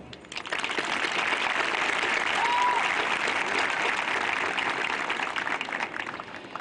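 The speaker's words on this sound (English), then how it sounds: "So I want to take this opportunity to give them a round of applause." A high school graduation audience claps steadily, the applause swelling quickly and holding strong throughout with scattered sharp claps.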